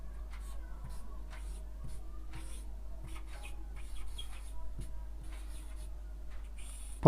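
Working a Class 10 maths answer by hand gives faint, intermittent scratchy strokes of writing on paper, close up, over a steady low hum.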